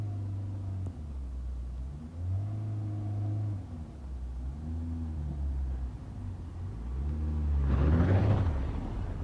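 A 1989 Volvo 480 pulls away in first gear, its engine rumbling and rising in pitch through several swelling rev climbs, moderately loud from inside the car with a harsher surge near the end.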